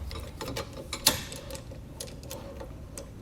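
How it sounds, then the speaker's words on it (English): A socket tool tightens a nut onto a new bolt while fitting a replacement knob and hardware, giving soft, faint mechanical ratcheting clicks with one sharper click near the start, in a quiet room. "What I do is I put it straight into the socket, and then that's how I tighten it down."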